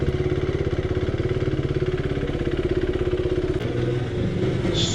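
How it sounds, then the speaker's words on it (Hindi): A KTM Duke 390 motorcycle engine running steadily at a loud, close, rapidly pulsing idle, with a slight change in the tone near the end. "So let me just start this bike up."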